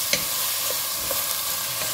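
Small zucchini pieces being stirred in a hot pan, a light sizzle under repeated clinking scrapes of the spoon against the pan about every half second, close and clear, no talking.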